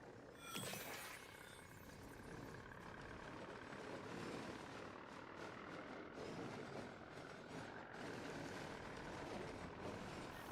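Helicopter in a video game, a steady, loud rotor and engine roar that fills the whole clip without pause, with a sharp burst near the start and no talking.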